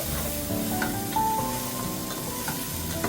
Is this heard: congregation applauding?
no